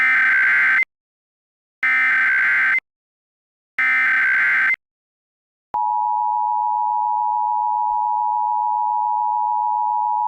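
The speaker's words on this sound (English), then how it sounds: "on the count of 3, valid EAS tones" Emergency Alert System tones: three loud, evenly spaced bursts of harsh buzzy data tones with silences between them, then a long, steady, piercing dual-pitch attention tone that holds to the end. No voices.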